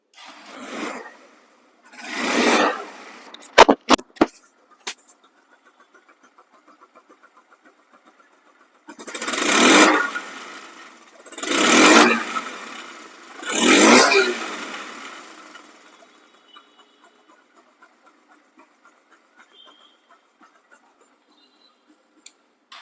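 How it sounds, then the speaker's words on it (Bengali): A Hero Ignitor motorcycle engine runs with a steady low idle, broken by several loud, rushing surges of revving that rise and fall over about twenty seconds, close by with no talking. "বাইকটি সাউন্ড কোয়ালিটি শুনুন"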